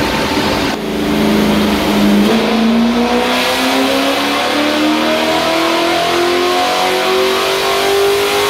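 A Toyota 1UZ V8 engine revs hard on a dyno, its loud, continuous roar climbing steadily in pitch as the revs build over several seconds, with no talking.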